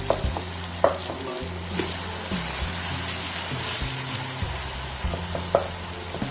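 Kebabs fry in masala in a pan with a steady close sizzle, broken by a few scraping stirs and soft knocks, loud and constant without talk.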